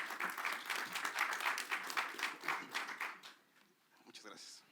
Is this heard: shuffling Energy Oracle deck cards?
no